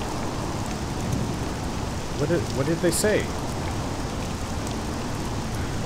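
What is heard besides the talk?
rain falling in a video game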